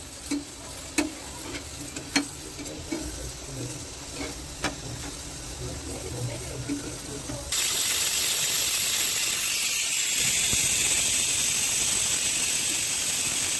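Dry coconut roasts in a pan for mutton rassa, first with light, sparse stirring taps and crackles, then a sudden shift to a loud, steady sizzling hiss that lasts to the end.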